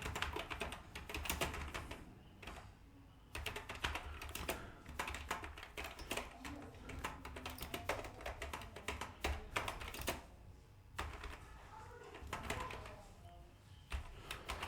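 Computer keyboard typing a text heading, a fast steady run of clicky keystrokes close by with brief pauses between bursts.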